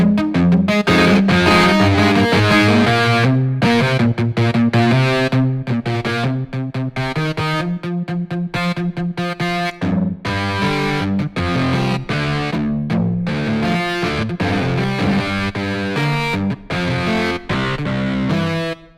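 Heavily processed, distorted sampled guitar, tuned down to D, plays a fast, driving riff with dense chords and short pauses, loud and continuous throughout.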